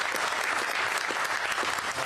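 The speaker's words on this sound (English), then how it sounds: "How about a big round of applause for Rich Walsh," Crowd at a Mike Pence campaign event in Charles City, Iowa, applauds for Rich Walsh, a brief burst of many hands clapping, loud and continuous, with no voices on top.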